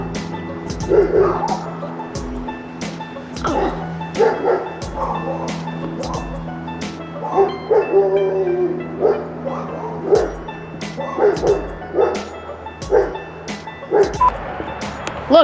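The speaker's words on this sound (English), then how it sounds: "I'm gonna wait for the dogs to settle down." Several dogs bark and yip repeatedly in short, irregular bursts, fairly close, over a low steady background hum.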